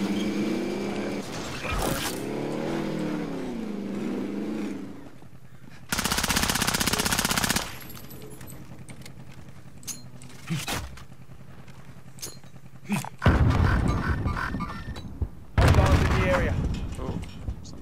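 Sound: enemy gunfire from above in a video game

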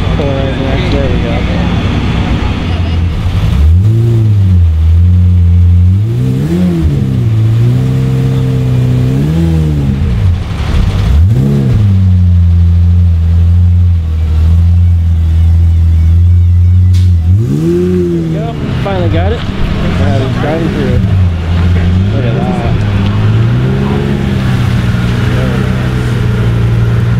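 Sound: cars revving and arriving at a car meet

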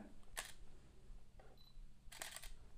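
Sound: Canon 200D Mark II camera shutter clicking a photo

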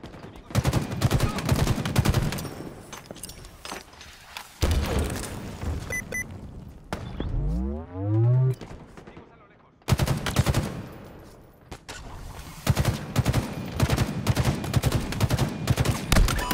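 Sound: gunshots in the video game Halo Infinite

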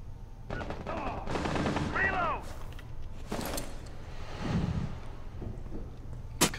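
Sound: gunshots in the video game Rainbow Six Siege

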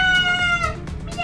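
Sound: player imitating a cat meowing while playing Roblox

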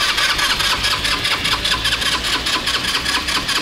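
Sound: vehicle engine cranking but failing to start

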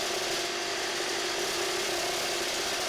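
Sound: DeWalt FlexVolt and Makita reciprocating saws cutting

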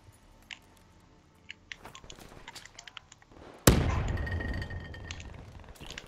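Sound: grenade explosion in a video game

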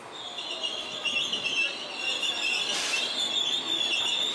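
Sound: train at Monastir railway station

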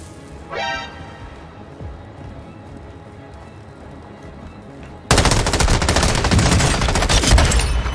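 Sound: gunfire exchange in video game Warzone

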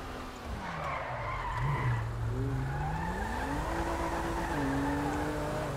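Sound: car engine revving and tires skidding in GTA V video game

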